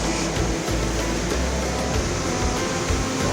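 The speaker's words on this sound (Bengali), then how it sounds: "এসি, উজু করার স্থানে এসি আছে।" Air conditioning in a mosque ablution area, a steady loud rushing hum of blowing air with a low drone, continuous throughout and without talk.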